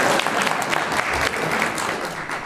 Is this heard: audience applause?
yes